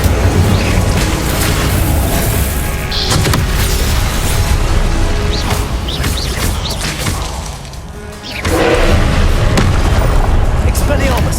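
Incendio and other spell blasts in the video game Hogwarts Legacy boom and crash in a busy, loud barrage of impacts, with a brief lull before the bursts resume, while a voice talks over them.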